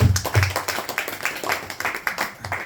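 An audience at a devotional Bhagavad Gita study gathering applauds with brief, close, uneven hand clapping, a small group's claps patter quickly for under three seconds.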